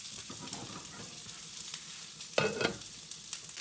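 Crispy pancetta sizzles in olive oil in a pan for an omelette, a steady close frying crackle with a sharper burst of spitting partway through.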